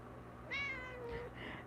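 An excited cat meows nearby, one drawn-out, clear meow followed by a shorter second call against a faint background hum.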